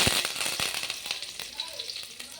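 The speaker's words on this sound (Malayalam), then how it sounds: "ഇനി നമുക്ക് അതിനകത്ത് കടുക് പൊട്ടിക്കാം" Hot oil sizzles steadily while mustard seeds pop and splutter in sharp, irregular cracks, close up with a faint voice underneath.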